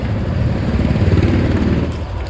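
A motorbike engine rumbles steadily and loudly nearby while the rider sets off toward an exam centre, a continuous low drone with slight throttle variation.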